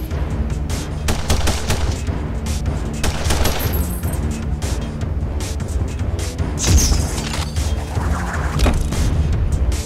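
Heavy gunfire in The Punisher video game, sustained bursts and single shots over a constant loud rumble, with booms and a crash partway through.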